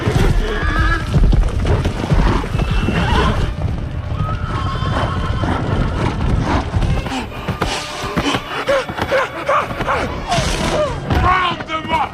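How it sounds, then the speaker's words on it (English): Horses neigh and whinny loudly amid continuous clip-clopping hooves and thuds in a film chase scene, with shouting voices mixed in over the dense, close commotion. "Follow the horse!"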